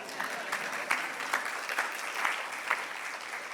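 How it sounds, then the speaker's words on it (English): A small conference audience at a peace session on ending religious violence claps steadily for a few seconds, individual claps audible through a soft, even patter without speech. "I think we should clap for ourselves"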